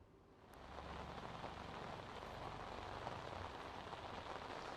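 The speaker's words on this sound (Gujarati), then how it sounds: "જે ગત રોજથી જે વરસાદ વરસી રહ્યો છે" Heavy rain falling steadily during a flood in Navsari, Gujarat, making a dense, even hiss of drops on surfaces that stays constant and close.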